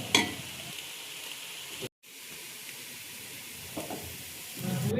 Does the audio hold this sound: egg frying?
yes